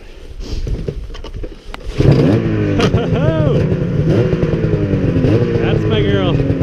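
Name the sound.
600RS motorcycle engine starting on the first pull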